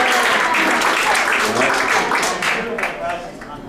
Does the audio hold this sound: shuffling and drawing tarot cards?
no